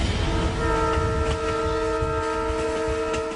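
A train runs along a railway line, its rumble and rattle steady beneath a long, sustained horn tone that holds for several seconds, close and fairly loud.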